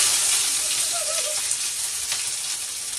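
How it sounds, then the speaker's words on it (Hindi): A large batch of onions hits hot oil and sizzles as a dense, steady hiss that fills the clip. "हमारा इतना सारा प्याज इतना सारा प्याज इतना सारा प्याज तेल में गया"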